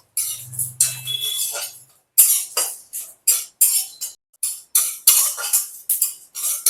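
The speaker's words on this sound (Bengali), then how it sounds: "এগুলোকে শুকনো কড়াইয়ের মধ্যে ভেজে নেব" Spices dry-roasting in a dry kadai: a steady run of short metallic scraping and clinking strokes as they are stirred, loud and close, with a brief low hum early on and no talking.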